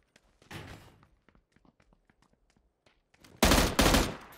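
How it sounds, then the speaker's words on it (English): Gunfire in a tactical shooter game, fired from a distance: a few faint scattered pops, then two loud close bursts of shots near the end. "there's somebody else shooting me from the distance"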